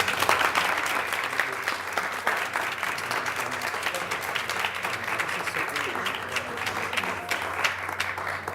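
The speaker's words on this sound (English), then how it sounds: "A round of applause." A roomful of people at a school board meeting claps steadily for several seconds, a dense, even patter of applause with faint voices mixed in beneath it.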